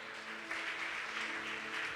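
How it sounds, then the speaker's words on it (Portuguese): Church congregation applauding during a Portuguese-language sermon, a steady, dense wash of many hands clapping at moderate distance, filling the room evenly for about two seconds with a faint voice underneath. "Você pode aplaudir ao Senhor?"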